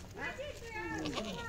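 A three-legged kid goat in Kargil, Ladakh bleats in a wavering, drawn-out call lasting the whole moment, close and fairly clear.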